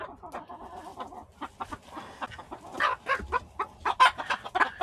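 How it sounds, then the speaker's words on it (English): An egg-bound hen clucks and squawks in agitated bursts, close and distinct, growing louder and more rapid toward the end. "It's a hen."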